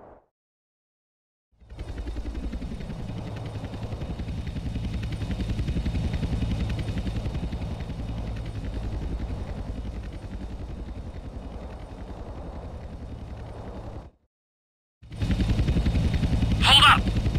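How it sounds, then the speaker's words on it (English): Two agency helicopters approach on an intercept in Grand Theft Auto San Andreas. A steady, loud rotor drone is heard, briefly cut off, then returns with mixed game noise. "Two agency choppers coming in on an intercept."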